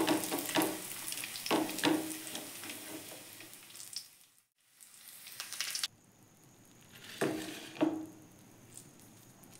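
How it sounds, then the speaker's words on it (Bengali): Cashews and raisins fry in hot oil in a wok, a steady close sizzle with a few louder bursts of crackling as they are stirred, dropping briefly near the middle before resuming. "প্রথমে আমি কাজু কিশমিশটাও ভেজে নিচ্ছি। কড়াইয়ে তেল গরম হতে দিয়েছি।"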